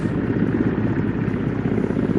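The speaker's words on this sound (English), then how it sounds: "helicopter comes to hover over the roof." An Indian Air Force helicopter hovers low over a rooftop during a firepower demonstration, its steady rotor and engine roar filling the air continuously and loudly without break.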